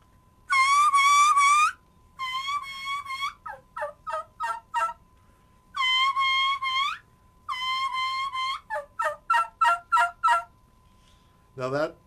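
A person imitates a young-of-the-year turkey's kiki run with a turkey call: a series of high, clear whistled notes, some long held, others quick short chirps in bursts, close and alone with no talk.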